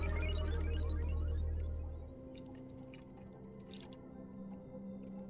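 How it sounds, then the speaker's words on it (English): Water pours in the video game Oxygen Not Included, with a smooth steady gurgling stream and light dripping that continues alone at moderate volume. "Water pour ASMR."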